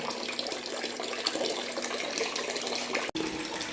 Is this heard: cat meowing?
no